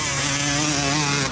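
Two-stroke dirt bike engine revving hard and steady up close, a loud buzzing drone that holds for about a second and a half with no talk.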